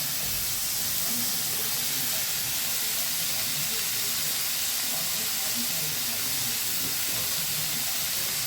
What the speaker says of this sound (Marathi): कांदा छान फ्राय करायचा.